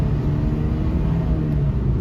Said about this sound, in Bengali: গাড়ি নিউট্রাল করে দিয়ে যদি আমি ফুল অ্যাক্সেলেটার করি,